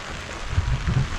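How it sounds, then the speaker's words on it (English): Heavy rain falls steadily outside during a stretch of extreme weather with flood alerts, a low, continuous wash of noise with soft, rumbling swells and no talk. "Heavy weather, heavy rain. It's coming down."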